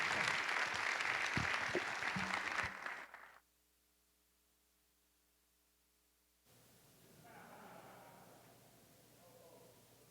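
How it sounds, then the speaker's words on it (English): An audience applauds loudly for about three seconds before the sound cuts to near silence, followed by faint room noise. "How about another round of applause, please?"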